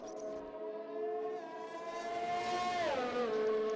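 Formula 1 racing game cars at Monaco qualifying, a loud sustained engine whine holding steady then sweeping sharply down in pitch as the car brakes, continuous throughout without talk.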